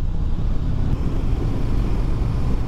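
A Harley-Davidson Heritage Softail motorcycle fitted with a Miller Retro exhaust, being ridden, gives a steady, loud, deep engine rumble throughout with no break.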